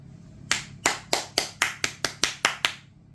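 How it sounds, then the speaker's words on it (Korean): Ten crisp hand claps ring out close and alone in a fairly even rhythm, each a sharp slap with a short decay, spaced about a third of a second apart. "이 박수 소리가"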